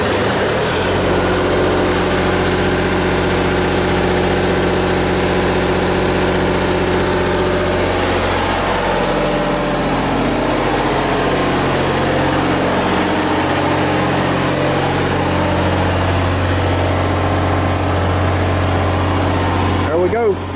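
A home backup generator runs during a power outage, a loud, steady engine drone close by that holds without pause and shifts slightly in pitch partway through.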